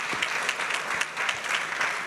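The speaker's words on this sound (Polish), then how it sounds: "Wielkie brawa dla Was." Applause at an ecology awards gala for the laureates, a dense, even roll of clapping from a large audience, fairly loud and sustained throughout.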